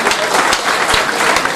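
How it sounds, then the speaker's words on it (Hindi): Audience at a gathering clapping to give a standing welcome, dense, steady applause from many hands close by, heard without talk. "तालियों की गूंज में खड़े होके उनको रिसीव करें।"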